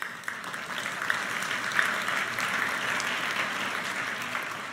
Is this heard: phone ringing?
no